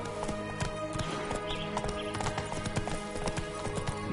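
A horse in The Witcher 3 game gallops with a steady, rapid clip-clop of hooves and a brief whinny, over a continuous music and ambient background at moderate level.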